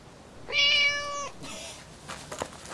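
A cat lets out a single clear, drawn-out meow lasting under a second, fairly close, followed by faint shuffling and small background noises.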